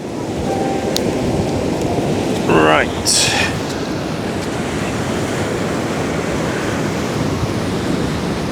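Ocean surf rolls and breaks steadily at Turimetta Beach in Sydney, a continuous broad wash of waves with wind noise on the microphone and a brief louder surge partway through.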